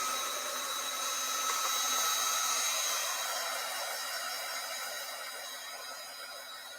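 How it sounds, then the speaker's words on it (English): A heat gun blows steadily close by while mixed media paint is dried for a junk journal cover, a continuous airy roar that holds level for several seconds and then eases slightly, with no talking. "Let's see if my heat gun will help me out a bit."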